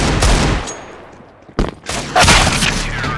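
Gunfire in Counter-Strike: Global Offensive lands headshots, with loud, sharp bursts of shots: a dense volley at the start, then separate cracks and a second heavy burst later on.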